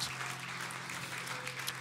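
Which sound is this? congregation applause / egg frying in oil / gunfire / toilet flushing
congregation applause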